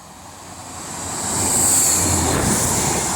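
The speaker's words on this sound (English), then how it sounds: "So the next train to be coming through will be a Class 150" A Class 150 diesel train passes through Castleton station, its rushing rail noise swelling from a moderate level to a loud, close roar as it goes by.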